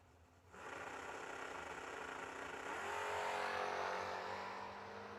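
AMC Spirit race car at a summer drag meet, its engine droning steadily, then the pitch shifts and settles as the driver eases off the throttle; continuous, loud and close, with no talk.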